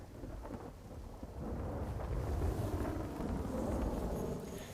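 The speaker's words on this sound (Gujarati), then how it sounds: "આ પંથકમાં પણ ધોધમાર વરસાદની શરૂઆત જોવા મળી રહી છે।" Heavy monsoon rain pours down in Amreli district, a dense, low roar that swells after the first seconds, with deep rumbling and wind buffeting the microphone.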